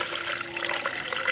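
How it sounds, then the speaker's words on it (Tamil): Water pours from a vessel onto soaked green gram lentils with turmeric powder, a soft, steady, close splashing trickle lasting a moment, fairly quiet with no talk. "தண்ணி ஊற்றிக்கோங்க."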